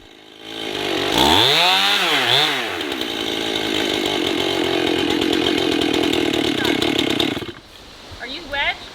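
A chainsaw cuts into a tree trunk that pinches along its bottom, the engine revving up then holding a loud steady whine for several seconds before it stops and a voice speaks briefly.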